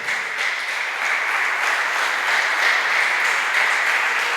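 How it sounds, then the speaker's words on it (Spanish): A church congregation claps together during a service, giving a steady, dense round of applause that holds at an even level from start to finish with no talking over it. "Denle un aplauso al Señor."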